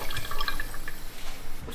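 Water pours onto sugar for homemade wine gums, a brief bright splashing and trickling into a container, close and steady with no talk.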